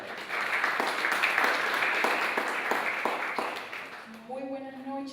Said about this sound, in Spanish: recibamos con un aplauso a la directora Aida Montero